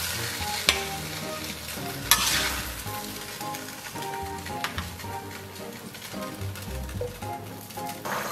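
Bok choy stir-fried with sliced garlic in hot oil in a wok, a steady crackling sizzle with spatula scrapes and clacks throughout, close and fairly loud, with no talking.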